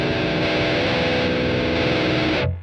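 An electric guitar runs through a tube amp with diode distortion, the bright switch on and heavy grind, in a dense, saturated metal-style chord that rings steadily and loudly before cutting off abruptly.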